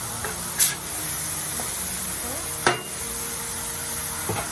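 Cajun rum burger patties hiss and sizzle steadily in a hot pan, with a few sharp spatula scrapes and bursts of louder frying as they are turned over, no voices.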